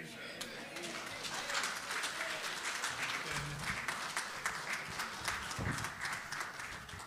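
A church lectureship audience gives a sustained round of applause. Dense, steady clapping fills the whole stretch at moderate, slightly distant level, with crowd voices faintly mixed in.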